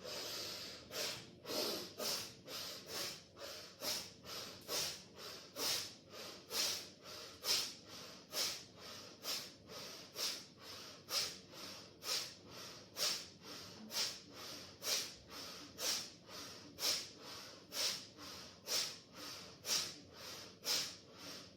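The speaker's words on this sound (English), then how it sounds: "Let's do this for 20 breaths, in and out through your nose." Forceful breaths are drawn in and pushed out through the nose in a steady, rapid rhythm during a guided breathing practice, with about two dozen sharp snorting exhales repeating evenly, close and alone.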